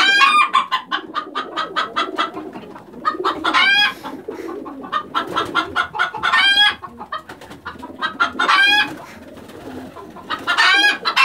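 Many chickens cluck and cackle continuously in an enclosed space, overlapping calls rising into loud squawking bursts with no pause.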